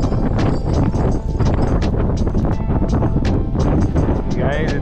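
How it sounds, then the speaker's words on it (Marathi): Strong wind buffets the microphone continuously on a Sahyadri mountain ridge trek near Taru Khind, a loud, steady rushing roar with no pauses. "इथे वारा एवढा जोरात आहे"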